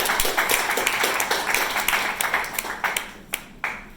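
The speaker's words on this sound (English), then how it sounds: "Big round of applause for Zishan." An audience at a community inauguration event applauds a regional councillor with a wash of clapping that thins out over a few seconds, leaving scattered individual claps near the end.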